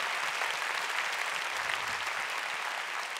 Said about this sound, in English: let's give the Lord a big hand clap this morning